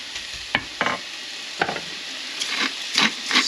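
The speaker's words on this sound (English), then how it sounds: "Don't want to cook it too much because, as you know, what's going to happen is turkey is already cooked." Leftover turkey curry in a pan, a soft steady sizzle broken by several scraping stirs of a spoon, close and clear, with no talking.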